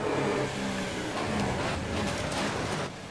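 Formula 1 racing car in a video game, its engine a loud sustained roar at high revs that dips slightly in level at the end.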